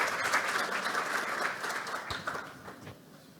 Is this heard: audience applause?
yes